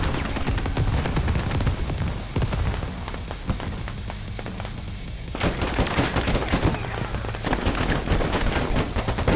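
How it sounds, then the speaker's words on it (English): Gunfire from infantry fills the infantry combat video game Squad, heard from inside a moving vehicle. Dense, continuous bursts of rifle and machine-gun fire crackle loudly throughout, easing briefly in the middle before the heavy shooting resumes. "What's shooting at us? Infantry!"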